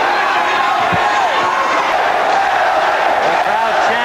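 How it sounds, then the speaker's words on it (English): A boxing crowd chants for hometown fighter Billy Costello during his 1984 bout with Ronnie Shields, a loud, sustained roar of many voices filling the arena with rising and falling cheers. "The crowd chanting for their hero, Billy."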